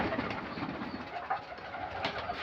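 Soft, low pigeon coos repeat gently over a faint, steady background, heard nearby with no talking.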